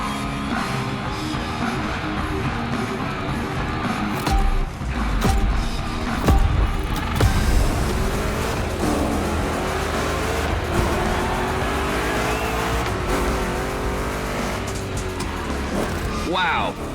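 Chevrolet big block engine roaring through turns in The Crew Motorfest during a Hoonigan Gymkhana event, a steady, loud growl with tire noise, under continuous talk.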